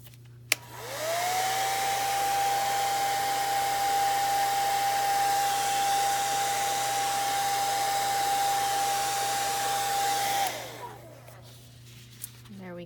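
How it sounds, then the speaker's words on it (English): A handheld blow dryer heat-sets alcohol ink, spinning up to a loud, steady whine and airy rush for about ten seconds before it winds down and cuts off, with near silence on either side. "And then I'm going to heat set it with my blow dryer."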